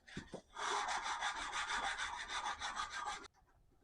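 Hand sanding knife handle scales with 180-grit sandpaper, a run of quick rhythmic back-and-forth rasping strokes, close and fairly quiet, stopping abruptly.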